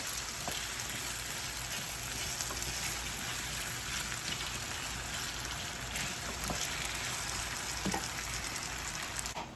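Food frying in a pan until crisp, a dense continuous sizzle and crackle like rain on a surface, close and steady throughout, with a few faint pops and no talking.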